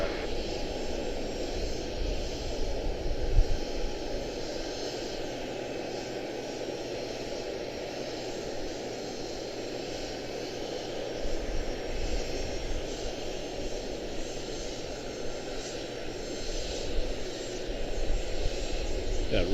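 A jet airliner landing at Charlotte-Douglas International Airport produces a sustained, distant engine roar that swells and eases slightly across the span.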